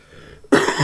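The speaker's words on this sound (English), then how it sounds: "Oh, coughing. It's a nasty cough." A single loud, close cough bursts out after a near-silent moment, then rasps on briefly with no talk over it.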